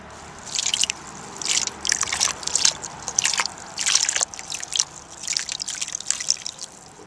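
Water dripping and trickling while seed starting mix is wetted by hand, a steady run of close, soft patters and splashes with no talk.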